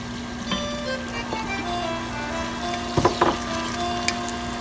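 A large amount of onion fries in plenty of oil over high heat, giving a steady crackling sizzle. A few louder pops and stirring clatters cut through near the end, and no one speaks.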